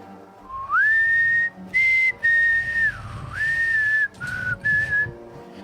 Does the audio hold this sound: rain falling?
no